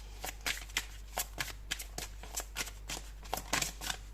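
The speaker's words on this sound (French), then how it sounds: "On va prendre deux autres cartes." Tarot cards shuffled by hand at close range, a quick series of soft riffling flicks and papery slaps in an uneven rhythm over a low background hum.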